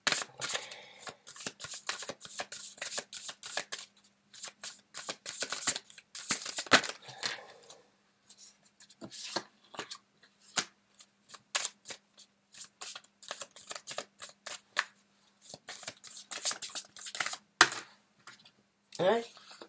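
Tarot cards being shuffled in a steady run of crisp, rapid riffles and flicks, close and fairly quiet, with short pauses between bursts and a faint steady hum underneath.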